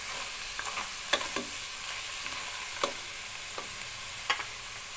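Garlic sizzles steadily in oil in a pan, with occasional scraping stirs and small clicks punctuating the continuous frying hiss.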